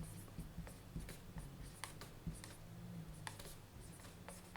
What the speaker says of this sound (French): je peux écrire ici la solution